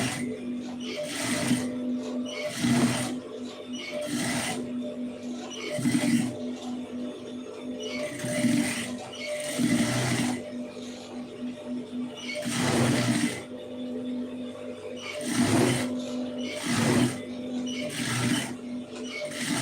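Sewing machine stitching a neck design on fabric, short whirring bursts of stitching repeated every couple of seconds with brief pauses between, close and steady.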